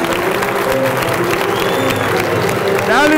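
Neftchi supporters in a stadium crowd keep up a dense wash of applause and cheering, with chanting voices and a rising whoop near the end, loud and steady throughout.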